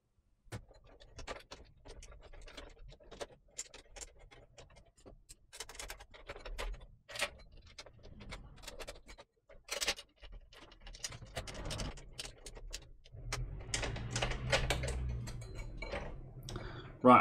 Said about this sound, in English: we sandwich the whole lot together with a single set of screws